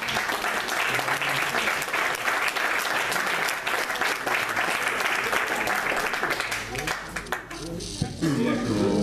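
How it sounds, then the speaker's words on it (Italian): Applause for a group at an Italian political meetup, a dense crowd clapping steadily and loudly for about seven seconds before thinning out near the end. "che merita un applauso"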